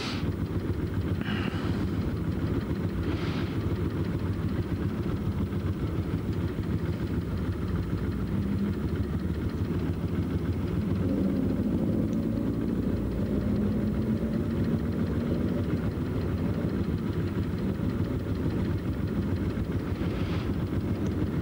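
A motorcycle engine idling while stopped in traffic, a steady low throb and rumble that holds for the whole stretch, close to the rider, with faint passing noise and no talk.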